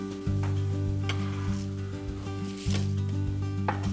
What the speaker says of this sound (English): Just gonna saute the onions and garlic, get them nicely caramelized